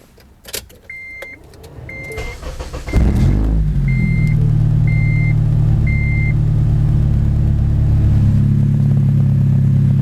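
A Honda Element's engine is cranked: a few starter clicks and a whirring crank, then it catches and settles into a steady, loud, close-up idle that runs evenly to the end.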